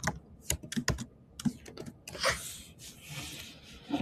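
Typing on a computer keyboard to enter an equation into the Desmos graphing site, a burst of quick close clicks followed by a steadier run of keystrokes and rubbing, moderately loud with no talking.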